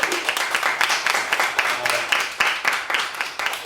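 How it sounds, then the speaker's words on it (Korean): Church congregation applauds in a short, steady burst of dense hand clapping, close and fairly loud, with a voice faintly beneath. "우리 박수 한번 해주시죠."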